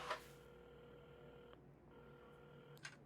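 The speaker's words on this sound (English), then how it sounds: "at the counter, Carmen had started dialing the phone" Phone being dialed inside the game Assemble With Care: a steady electronic tone holds for a stretch, breaks, then resumes, with soft clicks at the start and end, quiet and alone.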